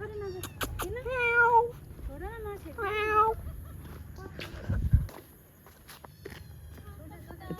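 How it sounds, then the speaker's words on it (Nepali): A cat meows several times in quick, rising and falling calls, close by, followed by footsteps and quieter movement. "तपाईँ म्याउ गर्नु हो नि त"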